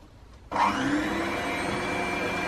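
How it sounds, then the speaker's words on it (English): An electric mixer starts abruptly and whirs steadily and loudly through gluten-, lactose- and yeast-free mince pie cupcake batter with mincemeat, a continuous motor drone after a brief quiet moment. "now I'm going to mix this lot together until everything is well combined"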